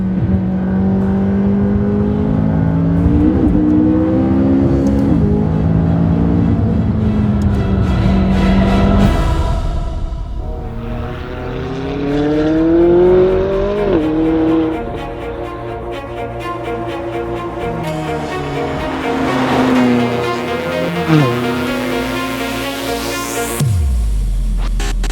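A turbocharged McLaren 570S sports car engine revs repeatedly, rising and falling loudly and close by across several bursts, with no talk over it.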